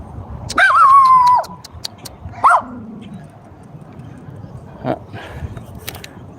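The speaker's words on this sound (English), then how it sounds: "very cute puppy." A small puppy out on a street gives a run of high yipping barks and whines near the start, then a shorter yelp and a few fainter whimpers over quiet background noise.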